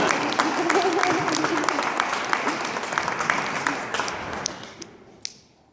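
Audience applause after a speech, a dense burst of many hands clapping that holds steady, then thins out and fades to a few scattered claps, with some voices mixed in.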